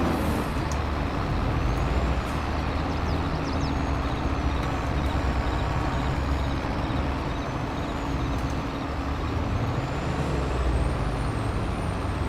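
Truck engine in a farming simulator during multiplayer silage chopping on a farm map, a steady loud droning rumble that fills the whole clip alone, with a faint air-brake hiss near the start.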